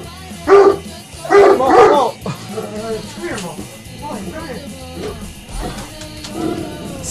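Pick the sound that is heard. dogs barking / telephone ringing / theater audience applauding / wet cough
dogs barking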